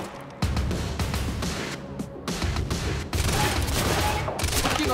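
Sustained rapid gunfire in the video game Quantum Break crackles loudly and continuously, overlapping bursts of shots with little pause, close and dense throughout.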